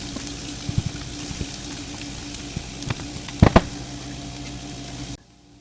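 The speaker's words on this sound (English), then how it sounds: "You should hear it start to sizzle, and you'll want to let it sizzle for about a minute until fragrant." Spices for Sichuan pepper tofu sizzle and fry in a pan with a steady crackling hiss, broken by a few louder pops and scrapes of stirring before the sound stops abruptly.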